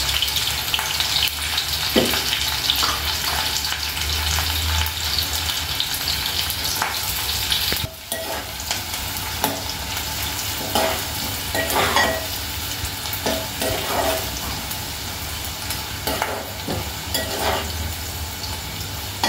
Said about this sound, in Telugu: ఉల్లిపాయలు వేసుకుందాం.